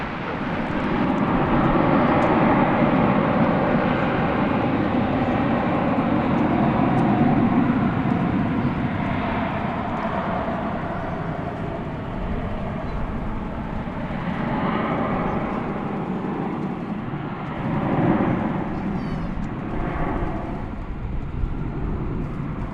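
An American Airlines Airbus A321 takes off from runway 18 Left at DFW airport at night, its engines a steady, loud broadband roar that holds for the whole stretch with slight swells, no talk over it.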